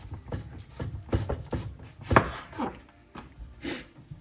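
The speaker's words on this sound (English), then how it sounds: "So I'll use my good knife once it is peeled to finish cutting it up" A knife cutting up peeled, dense, waxy jicama on a board, a series of close, distinct chopping thuds in an irregular rhythm with short pauses between strokes.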